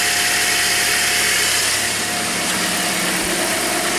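A Toyota clutchless A/C compressor spinning with the engine running, steady close mechanical whir and broadband engine hum, constant and loud with no talk.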